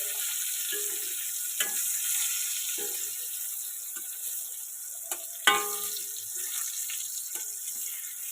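Salt-and-turmeric coated brinjal slices fry in oil in a kadai with a steady close sizzle, broken by scattered spatula scrapes and a sharper clack partway through.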